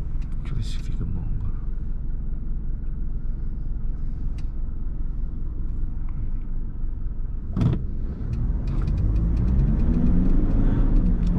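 A car on a test drive accelerates with a steady engine rumble heard from inside the cabin. The engine note rises toward the end, and people talk over it.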